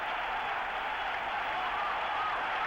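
A stadium crowd roars steadily for runner Sebastian Coe on the track, a dense continuous wall of cheering and applause at full volume with no break.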